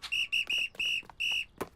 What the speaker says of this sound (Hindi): हमें सीटी मिल गई।